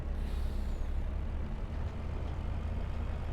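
A lorry drives along a narrow twisty lane in a farming video game. Its steady low engine rumble carries on loud and unbroken, with a faint hiss high above it.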